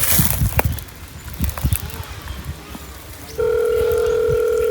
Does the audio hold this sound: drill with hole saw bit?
no